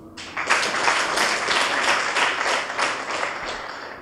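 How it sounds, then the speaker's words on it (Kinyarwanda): An audience claps steadily for genocide survivors at a Rwandan gathering, a dense, sustained round of applause lasting several seconds without any voices over it. "munyemerere mu ntiza amashyi mbashimire"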